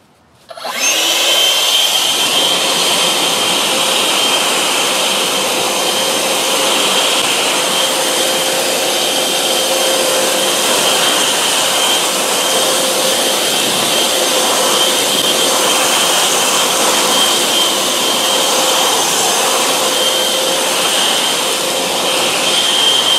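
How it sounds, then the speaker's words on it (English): An AiDot Enhulk 930 cordless leaf blower clearing seed pods from a planter, starting abruptly then roaring at full power with a loud, steady high-pitched whine and rushing air for over twenty seconds, close by with no talk. "I will blow out that planter as a demonstration"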